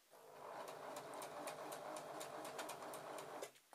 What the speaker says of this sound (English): Turn your stitch length to the longest, which is number 4, and then just go backwards and forwards to start.